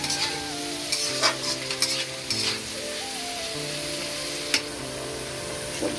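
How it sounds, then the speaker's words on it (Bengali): Chicken pieces with capsicum and potato stir-frying in a pan, a steady loud sizzle broken by clattering stirs and scrapes of the spatula, with no voices. "চিকেনটাকে ভালোভাবে একটু কষিয়ে নেবো"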